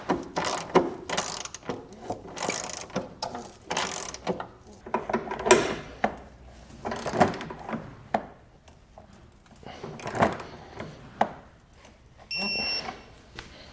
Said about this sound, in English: we can tighten them all down and come back with a torque wrench and torque it to the specifications